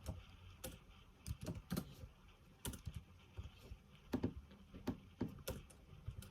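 Fast, irregular typing on a computer keyboard, with sharp clustered key clicks at close range against a quiet room and no talking.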